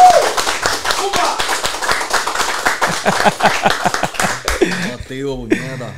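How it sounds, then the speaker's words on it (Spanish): Studio audience claps for a rap guest arriving for an interview, a brisk burst of sharp hand claps close by with talk running over them, thinning out into speech near the end. "Fuerte aplauso a la bestia"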